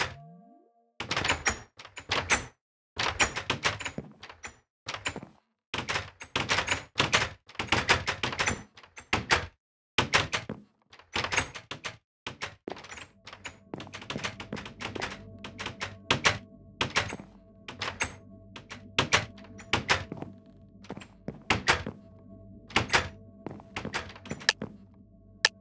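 Doors repeatedly thunk open and shut in a Minecraft minigame, a fast irregular run of sharp knocks and taps, loud and close, with a steady game hum building underneath later on.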